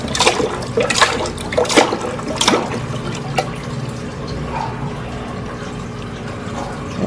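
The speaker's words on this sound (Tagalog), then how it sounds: "Lagyan natin ng tubig na." Water pours and splashes into a small container being prepared for sick betta fish, with bursts of trickling and dripping over a steady watery wash, close and moderately loud, with no talking.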